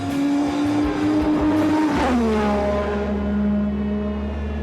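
A racing car passes close at speed, its loud high-revving engine note dropping in pitch as it goes by, then holding at a lower steady drone as it pulls away.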